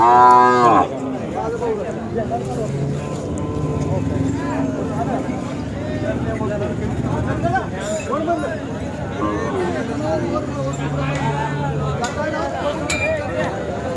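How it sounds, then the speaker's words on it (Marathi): Khillar cows mooing at a busy rural cattle market in Sangola, repeated deep lowing calls from several animals near and farther off, over a constant murmur of crowd chatter and people talking. "बाजारामध्ये आज गाय भरपूर आहेत"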